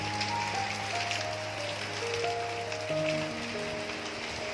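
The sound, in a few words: heavy rain falling outside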